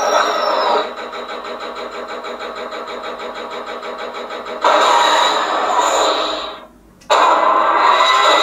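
A loud, high-pitched Star Wars podracer engine whines and roars continuously, surging louder partway through, cutting out briefly, then roaring back.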